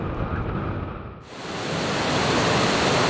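A waterfall in a Hokkaido gorge pours into a river, a dense roaring rush of water that swells louder after an abrupt cut and then holds steady, with no talk.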